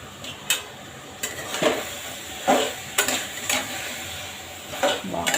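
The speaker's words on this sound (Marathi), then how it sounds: "आता हा मोगरा बासमती राईस आहे, हा टाकून परतून घेऊ आपण" Washed mogra basmati rice sautéed in a pan for veg pulao, a spoon scraping and stirring with repeated metallic clinks against the pan over a soft sizzle, close and irregular, no voices.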